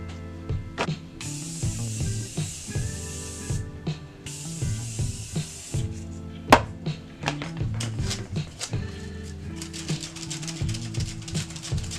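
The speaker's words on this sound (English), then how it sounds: "I'm just going to put a little Morphe setting spray" Morphe setting spray misted over a finished cherry eyeshadow makeup look, with short bursts of hissing spray, close and fairly loud, mixed with clicks and rustling handling noises and no talking.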